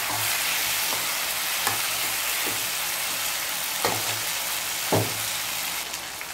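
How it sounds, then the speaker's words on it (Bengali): Cut potatoes sizzling in a pan for a Bengali tangra fish curry, stirred with a utensil in several scraping strokes over a continuous fry hiss, close up with no talking. "কেটে রাখা আলুগুলো দিয়ে আমি ভালো করে নেড়ে করে নিচ্ছি।"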